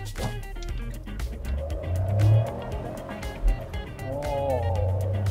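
A small Suzuki car accelerates hard from a standstill, its engine note climbing steadily through the gears from inside the cabin, with voices talking over it.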